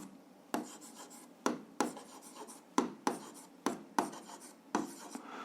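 Pen strokes on paper while working an algebra exercise: a series of about ten short, crisp scratches and taps at an irregular pace, close and quiet, with faint rustling between them.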